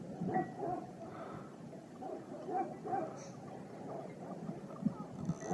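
Shepherd dogs in a village bark and whimper in the distance, faint yips and whines rising over a low outdoor background.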